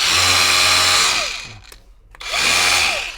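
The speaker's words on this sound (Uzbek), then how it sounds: "bu garantiyalik perforator mana" Makita cordless rotary hammer, sold as part of a seven-in-one kit, revved in two loud close bursts with a high whine that winds down to a brief near-silence before spinning back up.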